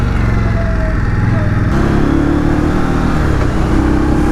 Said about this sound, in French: Oh là là, elle est classe, c'est sympa cette bécane.